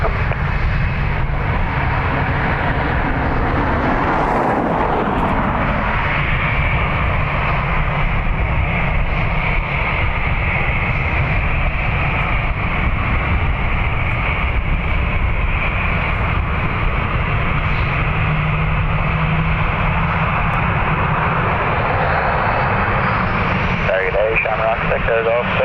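An airliner takes off from runway 10 right at Dublin Airport, a steady broadband engine roar sustained throughout, with radio voices talking over it.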